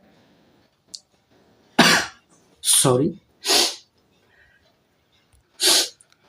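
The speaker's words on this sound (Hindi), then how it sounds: "हाँ, थोड़ी खांसी आ रही है" A man coughing during a maths lecture: four or five sharp, loud bursts spread out over a few seconds with quiet gaps between, and a brief spoken word among them.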